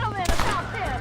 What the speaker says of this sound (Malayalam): ആളെ വെടിവെക്കാൻ പറ്റി, ഞാൻ വെടിവെച്ചാലേ.